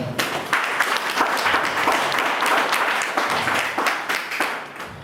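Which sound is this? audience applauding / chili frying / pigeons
audience applauding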